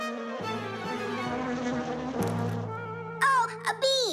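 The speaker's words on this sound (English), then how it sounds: "Oh, a bee!" A cartoon bee buzzes with a droning tone that shifts pitch as it flies near, and quick sharp squeaks and effects come in toward the end.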